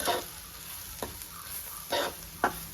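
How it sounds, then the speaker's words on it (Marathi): Roasted semolina is stirred into a pan for upma. A soft, low sizzle runs underneath, with a few distinct spoon scrapes and knocks spaced out across the moment. No one talks. "भाजलेला रवा त्याच्यामध्ये घालूया चांगला एकजीव करून दिला आहे"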